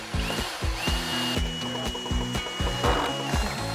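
A power drill drives 2.5-inch pocket hole screws into a DIY wooden dining table, giving a close, loud, continuous whine with rhythmic pulsing knocks and brief pitch shifts as the screws bite, with no talking.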